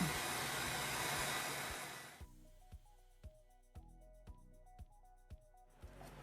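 A heat tool blows hot air with a steady, close hiss for about two seconds, then shuts off, and music plays with a regular beat afterward.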